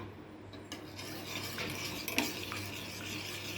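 Sathumaavu health-mix porridge with ghee being stirred continuously in a pan, soft scraping and gentle bubbling strokes with a light clink of a utensil, close and steady.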